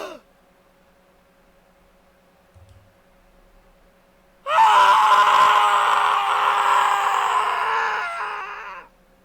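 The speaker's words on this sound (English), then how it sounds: "As I scream, another me looks down from above." A man's anguished, sustained scream of despair, loud and close, breaks out after near silence and holds for several seconds before cutting off.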